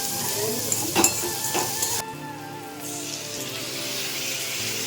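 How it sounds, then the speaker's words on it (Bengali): Small fish curry with salt being stirred in a frying pan, a continuous close sizzle with a couple of sharp utensil scrapes near the start and a brief dip before the frying hiss resumes. "এবার নুনটাকে দিয়ে একটু নাড়াচাড়া করবো।"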